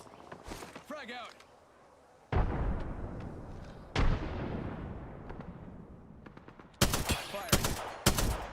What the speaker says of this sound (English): They're shooting at me. I'm getting shot at.